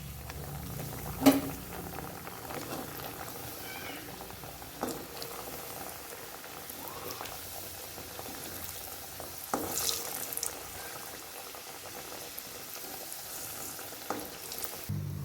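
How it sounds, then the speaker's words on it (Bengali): Potato and cauliflower paratha frying in hot oil in a kadai gives a steady, faint bubbling sizzle throughout, broken by a few soft clinks and knocks of the utensils. "কড়াইতে তেল গরম বসিয়ে দিয়েছি এবার ভেজে নেব"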